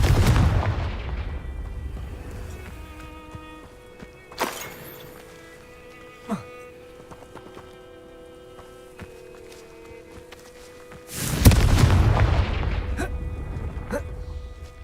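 Heavy explosions from the Confringo spell in Hogwarts Legacy: a loud booming blast at the start, a few sharper cracks in between, then another big rumbling explosion that slowly fades, with quiet game ambience between them.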